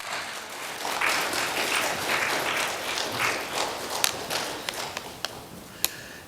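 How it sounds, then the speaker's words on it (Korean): Applause from a church congregation welcoming a guest speaker, a steady dense patter of clapping across the room with a few sharper individual claps standing out near the end. "박수 한번 주세요."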